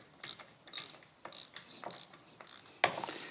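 Socket wrench ratcheting and metallic clicks while spark plugs are worked out of a Formula Konig race car engine, a series of close, crisp bursts with a sharper click near the end.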